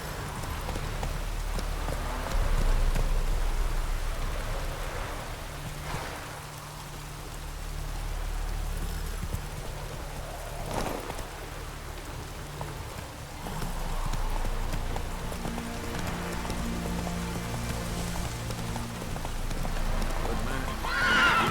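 Horse hooves in The Witcher 3: steady clip-clop of a trotting horse throughout, with an occasional snort or whinny, over rainy ambience and a low rumble.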